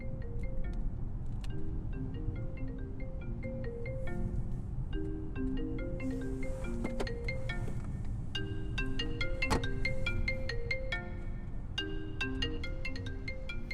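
A mobile phone ringtone plays a bright, repeating electronic melody of short plucked notes, steady and moderately loud, in a car scene from a Hindi-dubbed film, with no talking over it.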